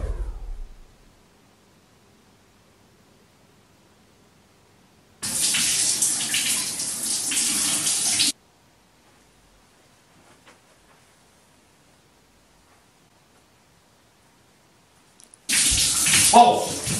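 Two bursts of a running shower, each a few seconds long, give a loud steady hiss of water that starts and stops abruptly, with near silence between them.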